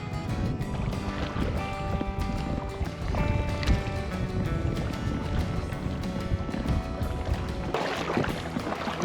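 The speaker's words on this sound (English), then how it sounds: "When you paddle with the flow, you actually move pretty quickly" A kayak paddles downstream on a river in Glen Canyon near Lee's Ferry, with continuous splashing paddle strokes and wind noise, joined by a steady tonal hum, fairly loud throughout.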